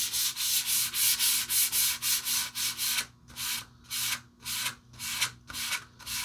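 Hand sandpaper rubbed along the grain of wood on a wine rack build, steady back-and-forth strokes, brisk and close at first, then slower and lighter with distinct gaps between passes.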